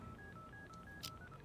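Faint telephone keypad tones from the video game Unheard - Voices of Crime, a quick run of short, evenly spaced dialing beeps over a low background hum, with no talk.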